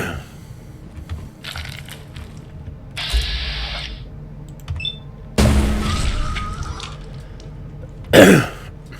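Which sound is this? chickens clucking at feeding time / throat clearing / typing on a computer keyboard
throat clearing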